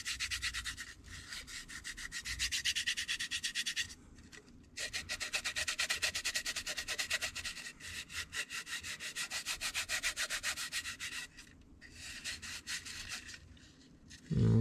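A fingertip rubs paint on a Monogram 1955 Ford rat wrecker scale model, making a close, quiet, dry scratchy rubbing in repeated back-and-forth strokes with short pauses between bursts.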